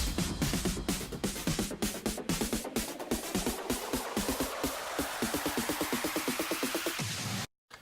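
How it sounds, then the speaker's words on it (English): A synth riser builds steadily, its pitch sweeping upward over rapid pulsing beats, loud and continuous, then cuts off abruptly at the end. "But then the build-up sounds are terrible."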